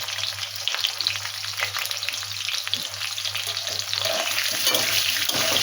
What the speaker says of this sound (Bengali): আর একটু হলুদ দেবো, একটু ভেজে নেব।